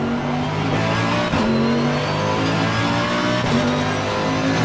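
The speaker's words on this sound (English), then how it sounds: "They did a really great sound, really great job on all the sounds of the cars in this game." Mercedes-AMG GT3 race car engine in the racing game Assetto Corsa Competizione at Silverstone, a loud, steady high-revving drone with brief dips at gear shifts, heard alone without talk.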